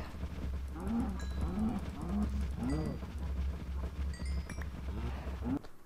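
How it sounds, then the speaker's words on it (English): Cows in Minecraft moo repeatedly, several low drawn-out calls in a steady rhythm, close and moderately loud over a constant low background drone, with a few faint higher game blips near the end. "we'll kill some more cows."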